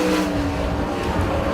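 Super late model race cars circling Port Royal Speedway during a heat race, a steady loud engine roar filling the short stretch without pause.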